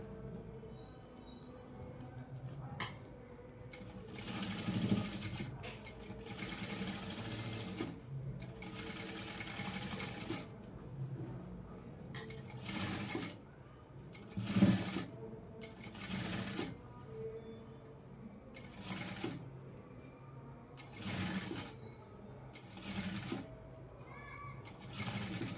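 Sewing machine running bursts of stitching along a cross cut blouse seam, with short whirring runs separated by pauses, fairly quiet and close, with someone speaking between the runs.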